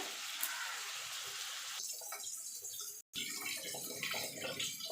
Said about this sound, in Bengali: এবার জল দিয়ে দেবো এখানে আমি এক লিটার জল দিচ্ছি